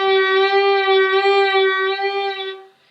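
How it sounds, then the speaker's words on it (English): A single sustained violin note is played with a slow, wide vibrato, its pitch wavering gently and evenly, close and clear, before it fades out. "If you make exactly the right movement, but you are doing it too slow, it sounds like this."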